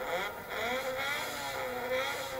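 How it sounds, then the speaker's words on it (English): A Mitsubishi Eclipse engine in Midnight Club 2 holds a steady, fairly loud whirring drone with slight rises in pitch, heard alone without talk. "That's the car that was making that sound. Yeah, Mitsubishi Eclipse."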